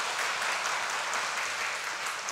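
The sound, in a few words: congregation applause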